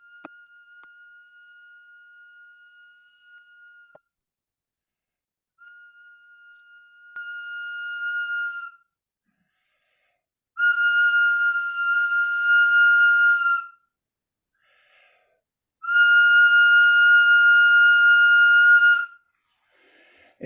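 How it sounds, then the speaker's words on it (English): A ceremonial whistle opens a circle with long sustained tones: a soft steady pitch first, then increasingly loud held blasts separated by short silences, clear and alone with no talk. "So I will open this circle with this whistle of"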